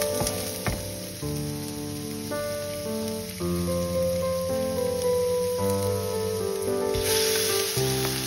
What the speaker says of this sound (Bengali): তেলটা ভালোমতো গরম হয়ে গেলে এখানে আগে থেকে কুচিয়ে রাখা আদা রসুনটা দিয়ে একটু